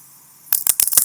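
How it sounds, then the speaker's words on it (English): Keyboard typing on a MacBook: a quick burst of about half a dozen close, crisp key clicks after a brief silent moment, ending abruptly. "I want to start here with the typing"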